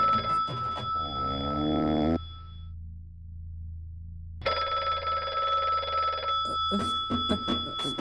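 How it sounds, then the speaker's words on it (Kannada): A telephone rings alone in two long bursts of trilling bell tone separated by a brief silence, loud and close, followed by a few short knocks. "ಫೋನು"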